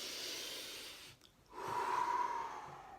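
One deep human breath, a long airy inhale followed by a brief pause and a fuller, louder exhale, close up and heard alone.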